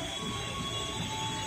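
A 12-car commuter train rumbles steadily past Depok Baru station in Indonesia, its wheels and cars roaring continuously and loudly up close, with faint squealing overhead.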